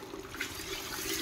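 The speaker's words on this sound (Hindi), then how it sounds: "ये पानी शुरू हो चुका है" Water gushes steadily from a hose pipe fed by a freshly started pump motor, a constant rushing, splashing flow close by and fairly soft, with no voices.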